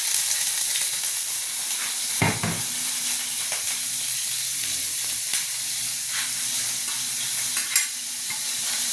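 Onion and garlic sautéing together in a pan for goat caldereta: a close, continuous hissing sizzle with occasional scraping clacks of a stirring utensil.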